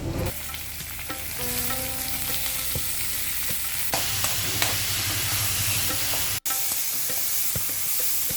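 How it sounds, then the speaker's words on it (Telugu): Dried red chillies, garlic and mustard seeds frying in hot oil for a tempering, a loud, steady sizzle and crackle with scattered pops and spoon stirring throughout, no voices. "ఇప్పుడు తాలింపు వేసుకున్నాము. ఎండుమిరపకాయలు, వెల్లుల్లి, ఆవాలు,"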